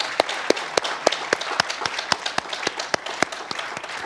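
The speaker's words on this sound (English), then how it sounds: "How about a great round of applause for our fabulous panel?" Audience applauding a media and elections panel at the close of a discussion, steady clapping with several distinct sharp claps standing out close by, sustained throughout.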